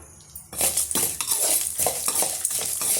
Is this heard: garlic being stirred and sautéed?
yes